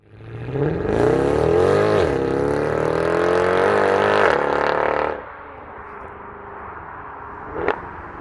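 A BMW M4 Cabriolet in Sports Plus mode revs hard through the exhaust, climbing in a loud sustained roar for several seconds, then drops to a quieter idle with one brief sharp crackle near the end.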